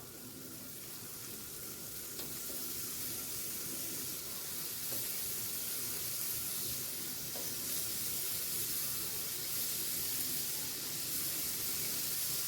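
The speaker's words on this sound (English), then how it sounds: "Then we're going to add our shrimp and let the shrimp cook as well." Shrimp seasoned with black pepper, salt, paprika, ginger and garlic cooking in a pan for shrimp and grits, a soft, steady sizzling hiss that runs on evenly and quietly, with no talking.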